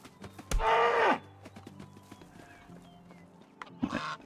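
A cow lets out one loud, drawn-out moo in the medieval farming game Medieval Dynasty, with a second, shorter moo near the end; faint clip-clop and ambient farm noise fill the quieter stretch between.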